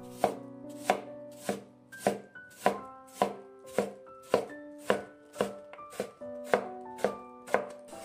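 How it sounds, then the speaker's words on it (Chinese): A knife dices apple on a cutting board in a steady run of about fifteen crisp, evenly spaced chops that ring slightly. "最后切成小丁。"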